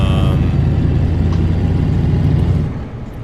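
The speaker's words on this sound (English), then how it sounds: "Cummins engine, a pretty good Cummins engine." A Cummins-powered truck engine in Euro Truck Simulator 2 drones at a steady, loud low rumble throughout, easing slightly in level near the end, with no talk over it.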